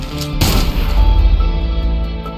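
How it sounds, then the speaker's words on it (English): A single loud pistol gunshot in the SnowBreak video game, a sharp blast followed by a long ringing, echoing decay over a low droning backdrop. "I pulled the trigger, the gunshot echoed loudly"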